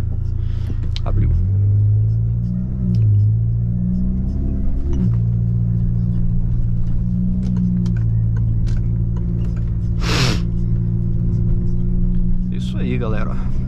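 A Citroen DS4 Stage 2 car cruises along the Linha Amarela highway, its engine a steady low rumble with some rise and fall in revs, with someone talking over it throughout.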